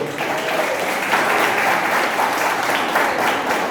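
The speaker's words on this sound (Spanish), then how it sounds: "Denle un aplauso a Dios por eso." A church congregation applauds together, a full steady wash of clapping from many hands that holds evenly for a few seconds without a break.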